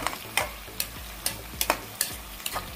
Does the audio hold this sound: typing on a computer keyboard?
no